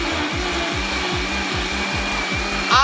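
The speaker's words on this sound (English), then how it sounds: "I'm gonna blend this up." A blender purées tomato soup with fresh basil, a steady loud motor whir with a rhythmic chopping pulse running through it, ending in a brief louder surge.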